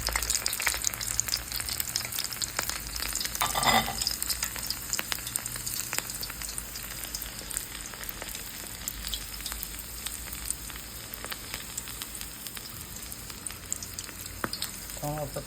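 Empanadas fry in oil in a crowded pan, a steady dense sizzle and crackle running the whole time with a brief louder burst of bubbling early on.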